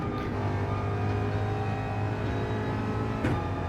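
Ford Mustang GR3 race car engine on Gran Turismo 7's Dragon Trail track, a steady loud drone at full throttle, continuous and close, with a brief sharper burst near the end.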